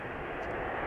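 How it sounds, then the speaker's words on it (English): Departure of a German Airways Embraer 190 from Amsterdam Schiphol: a steady, loud broadband engine roar filling the whole moment without a break, with no voices over it. "the first plane to come this way is the chocolate liveried German Airways"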